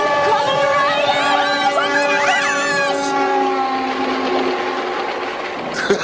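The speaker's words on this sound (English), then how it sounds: "It's a big train coming." A big train passes in an animated Christmas cartoon, its loud sustained whistle-like horn tones sliding and layered with rumble, with voices and crowd chatter mixed in.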